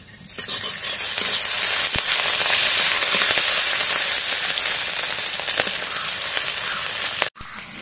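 Chopped green chilies and onion hit hot oil with a loud, dense sizzle that swells almost at once and holds steady and close, crackling throughout, then cuts off abruptly near the end.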